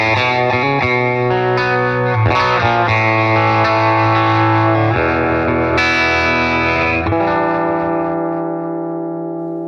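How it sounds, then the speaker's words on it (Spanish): Electric guitar through the second amp model of an HX Stomp preset pack: dense, distorted strummed chords with a thick, saturated tone, loud and sustained, fading slightly at the end. "El segundo amplificador suena así."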